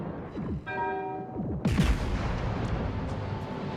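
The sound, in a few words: Großer Kurfürst battleship main guns firing, World of Warships video game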